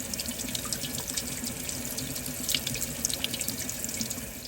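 Water streaming steadily from the spigot of a Berkey water filter, a soft continuous trickle with light splashing and faint drip-like ticks throughout.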